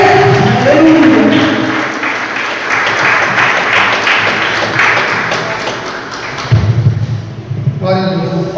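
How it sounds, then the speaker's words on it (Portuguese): Church congregation applauding during worship, a rolling wave of clapping mixed with voices that thins toward the end as music and a singing voice come forward. "a tua igreja te aplaude nessa noite"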